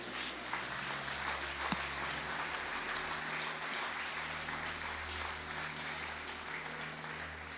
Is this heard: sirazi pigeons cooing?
no